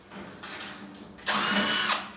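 A power drill backs screws out of a Masterbuilt 560/1050 grill, with short whirring bursts followed by a longer, louder high-pitched run, close up and with no talk.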